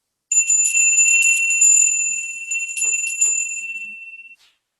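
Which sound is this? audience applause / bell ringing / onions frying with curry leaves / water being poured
bell ringing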